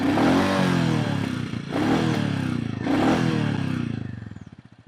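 A Royal Enfield Goan Classic 350 single-cylinder engine with a slash-cut exhaust, idling up close with a steady, loud thumping pulse broken by a few brief revs, then dying away toward the end.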